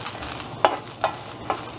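Guaje seeds toasting in a pan for huasmole, quiet background crackle with three short, sharp scraping or rattling stirs spaced about half a second apart, close by.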